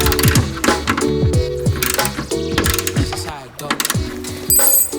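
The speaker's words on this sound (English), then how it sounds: "We're gonna actually bolt these down" Ratchet clicking as body kit panels are bolted onto a vintage Porsche 911, busy close mechanical ratcheting in quick repeated bursts with some clanking, loud and near.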